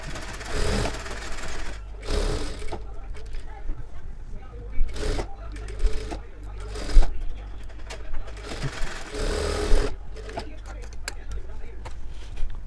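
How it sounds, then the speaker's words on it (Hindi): A sewing machine runs in short bursts, stitching a blouse lining to the main fabric, with rattling clicks between runs while someone talks over it. "तो आप देख सकते हैं हमने यहाँ पे इस तरह से स्टिचिंग लगा लेना है।"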